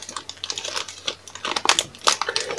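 A plastic bag of robot kit parts is handled up close, giving rapid bursts of crinkling and rustling in an irregular rhythm with no talking.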